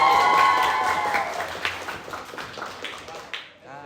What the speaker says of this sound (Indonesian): Tepuk tangan dong untuk Pais.